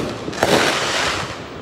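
Fireworks going off outdoors, a dense wash of crackling and rumbling bursts with one sharper pop, fairly loud and continuous, no voices.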